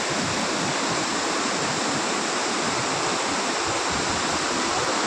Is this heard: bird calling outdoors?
no